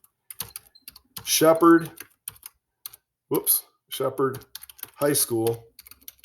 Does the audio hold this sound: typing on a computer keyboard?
yes